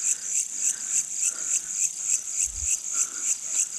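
Insects chirping outdoors in a steady, evenly pulsed rhythm of bright, high trills, several pulses each second, repeating without pause over quiet ambience, with a brief low thump partway through.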